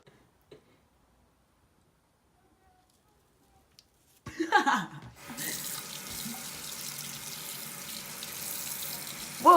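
Near silence with a few faint clicks, then a bathroom faucet opens during tooth brushing and tap water pours steadily into a sink, close and moderately loud, with a brief rattle as it starts.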